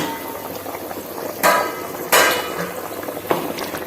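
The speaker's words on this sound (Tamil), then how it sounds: "தண்ணி நல்லா கொதிக்குது." Low bubbling and simmering of water boiling in a pot for mutton biryani, with a few sharp, brief bursts of louder splashing or popping standing out.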